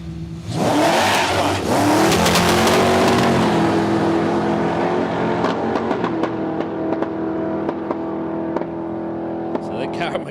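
A drag-racing Ford Falcon roars off the line at Palmyra Raceway, a loud blast of engine that holds, then fades down the strip amid scattered crackling pops, with a commentator talking over it.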